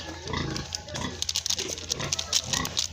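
A sow on a pig farm gives rapid, close grunts and snorts in irregular bursts throughout.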